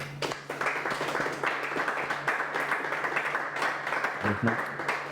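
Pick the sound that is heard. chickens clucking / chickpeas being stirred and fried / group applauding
group applauding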